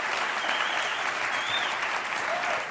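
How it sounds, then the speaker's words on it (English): Sustained applause from a lecture hall audience, a dense, steady wash of many hands clapping at an even level for the whole stretch, with no talking over it. "why I'm clapping"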